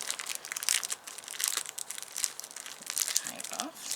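A sealed plastic bag crinkles and crackles as it is handled and opened, giving close, irregular bursts of rustling with no talking.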